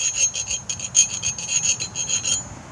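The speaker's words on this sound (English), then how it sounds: "He's just filing it off, getting the burr off" A metal file rasps repeatedly across the head of a tomahawk to remove a burr, a steady series of quick, close, moderately loud scraping strokes that stop shortly before the end.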